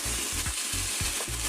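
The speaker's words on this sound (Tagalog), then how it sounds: "Una natin, isangkot siya muna natin ang ating chicken." Chopped chicken sizzles in a hot pan as it is sautéed, a steady bright frying hiss with a few rhythmic stirring scrapes underneath, close and continuous.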